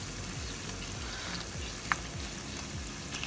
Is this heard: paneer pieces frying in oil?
yes